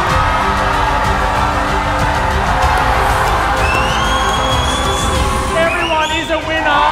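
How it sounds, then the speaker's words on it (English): At a corporate kick-off awards event, a large crowd cheers and applauds steadily and loudly throughout, with whoops and whistles rising above the roar near the end. "Massive round of applause to our icon winners."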